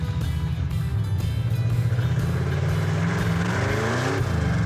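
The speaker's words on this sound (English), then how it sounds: "Oh, wow, it spun the tires. Or one tire." A Plymouth Duster's loud engine revs hard and holds high as one tire spins, a continuous close roar with rising pitch on a desert track, no voices over it.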